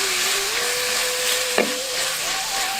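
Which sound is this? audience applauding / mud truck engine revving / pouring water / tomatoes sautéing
tomatoes sautéing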